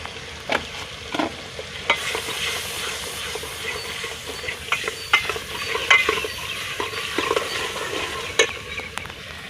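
Spices such as turmeric and red chilli frying in a pan and being stirred for a potato and spinach curry in a Pakistani village kitchen: steady close sizzle with repeated scraping stir strokes throughout.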